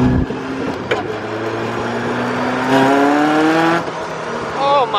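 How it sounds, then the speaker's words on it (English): A 500 hp Caterham 620R four-cylinder race car engine revs hard, its pitch sweeping up and down through gear changes, loud and close, with a brief whine near the end. "the whines it makes, and the up-top RPM noises is actually pretty darn good"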